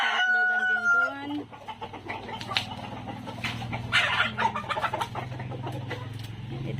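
Free-range Black Australorp chickens, a rooster crowing loudly at the start followed by scattered clucking and flock chatter at moderate distance, with a person talking faintly underneath.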